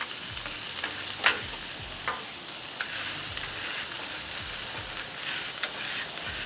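Potato pieces fry in plenty of oil on a Pit Boss griddle, a steady close sizzle and crackle with a few soft spatula scrapes and taps rising above it.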